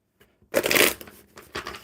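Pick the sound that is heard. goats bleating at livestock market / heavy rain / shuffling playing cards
shuffling playing cards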